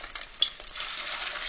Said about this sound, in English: so now I'm going to take my eggplant, dip it into the egg, right into the oil.